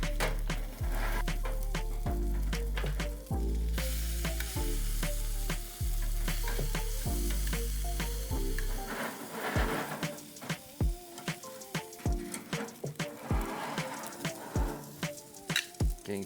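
Steaks sear on an infrared grill with a steady loud sizzle, punctuated by sharp metallic clicks and taps of tongs on the grate, and a low droning hum under the first half that cuts out partway through.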